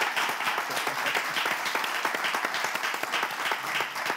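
Audience applause for a graduate who finished top of his class, a steady patter of many hands clapping at moderate volume with no pauses.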